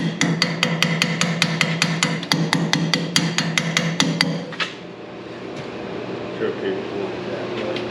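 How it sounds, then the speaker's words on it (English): A tractor carburetor gets tapped with a metal tool at a tractor show: a rapid run of sharp, evenly spaced metallic knocks, then a few isolated taps over a steady engine hum, with voices nearby. "Got something to tap on the carb with."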